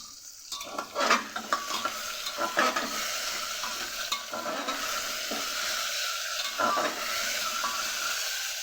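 Potatoes and papaya lightly frying in a pan with salt and turmeric. A steady sizzle with scraping stirring strokes throughout, strongest early on.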